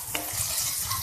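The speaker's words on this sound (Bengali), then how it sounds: "এখন আমি এটাকে নেড়ে ভালো করে মিশিয়ে নিচ্ছি।" Mushrooms being stirred in a frying pan with black pepper and a little sugar, giving a steady close sizzle with a brief scrape of the spoon near the start and another softer one toward the end.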